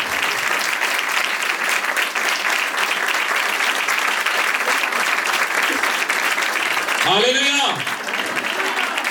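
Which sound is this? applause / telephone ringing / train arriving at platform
applause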